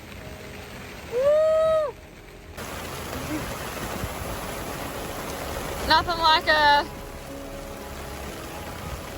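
Heavy rain pours steadily down on a boat off the Venezuelan coast, a dense continuous hiss, while a voice whoops and brief tonal calls or squeaks cut through.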